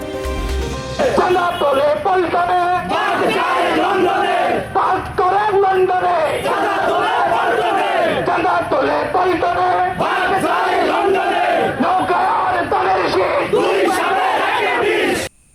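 A large street crowd chants political slogans in unison at a rally, loud and continuous with rhythmic shouted phrases and yells throughout.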